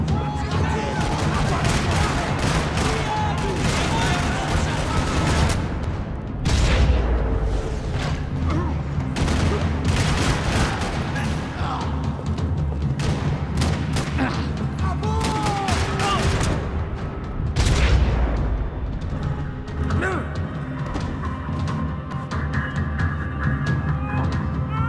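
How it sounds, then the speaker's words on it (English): Sustained heavy gunfire in a parking lot during a shootout in the video game Max Payne 3, with rapid bursts and loud booming shots continuing throughout, dense and close. "Another parking lot rattling with gunfire."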